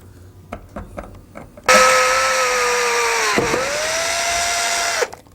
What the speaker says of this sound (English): Now we're ready to drill our hole.